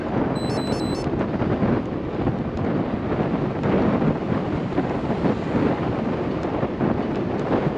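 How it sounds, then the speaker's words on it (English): Headwind roaring into the microphone while riding north on a Houston street, a loud, continuous buffeting rush that fills the whole clip without a pause. "Now you can hear the headwind as I turn north."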